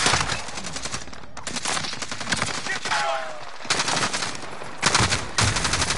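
Bursts of gunfire rattle in quick rapid volleys, broken by short pauses, shots aimed into the dirt, loud and close, with no voices over them.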